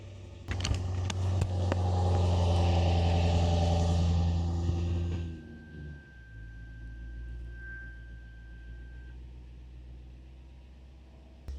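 A Lexus IS-F fitted with an RC-F Torsen limited-slip differential roars loudly as both wheels spin for about five seconds, then drops to a lower rumbling idle with a faint whine.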